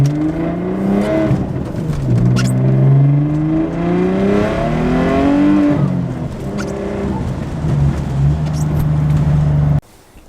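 A Ford Mustang notchback drift car with traction control off revs and accelerates close by, its engine note rising and falling in repeated sweeps with tyre whir, loud and continuous before cutting off abruptly near the end.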